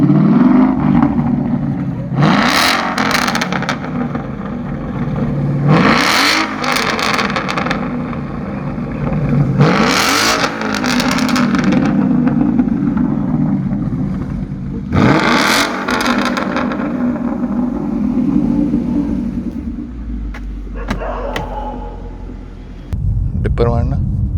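A Ford Mustang's engine revs in four strong surges, each climbing and falling away, then settles into a steady idle rumble close by, with no voices over it.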